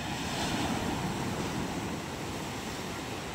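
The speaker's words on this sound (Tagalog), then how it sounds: "At napakalaki ng ating alon. Grabe. Abot dito sa tabi ang saboy ng alon." Large ocean waves crash and wash continuously onto the shore near fishing boats on a drizzly morning, a loud, steady roar of surf with some wind noise and no clear talk.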